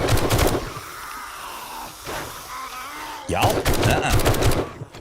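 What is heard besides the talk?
SMG gunfire in video game 7 Days to Die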